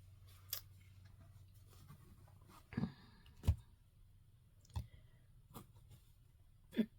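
Tarot cards being cut and shuffled, with a few sharp, separate snaps and taps spread over quiet, close-up moments and no talking.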